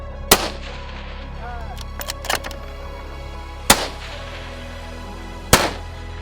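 Rifle fired through an N3wton suppressor outdoors, three sharp loud shots spaced a couple of seconds apart, each with a short crack and fading tail, with faint handling noises between them.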